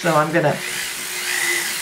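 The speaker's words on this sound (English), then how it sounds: "I'm going in here with my 400 sanding disc" A rotary tool fitted with a 400-grit sanding disc polishes a metal jewelry piece, giving a steady high whine under a brief spoken word at the start, then running on alone.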